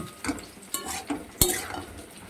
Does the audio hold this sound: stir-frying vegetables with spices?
yes